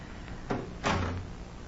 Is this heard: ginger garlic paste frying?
no